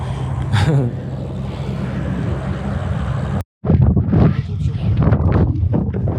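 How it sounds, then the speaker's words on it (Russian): Strong gusting desert wind in Saudi Arabia buffets the microphone with a heavy low roar during a bicycle trip, broken by a brief dropout, while a voice speaks over it. "Еще ветер просто этот."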